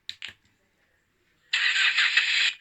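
An RC truck sound module plays a short electronic starter crank of two bursts, then falls quiet before a loud simulated engine catches and runs with a buzzy, speaker-like tone.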